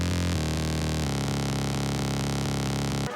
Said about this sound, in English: Separately, the bass preset sounds like this.